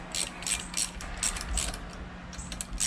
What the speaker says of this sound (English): I'll drop all 6 of my bolts and washers into the housing and start to tighten them a little bit.